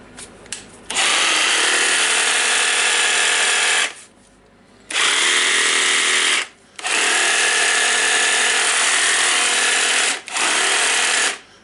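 A Makita 18V DJR186 cordless reciprocating saw, just repaired after a burned battery terminal, runs in three long bursts of loud, steady motor whine separated by short pauses, with a brief trigger blip at the start.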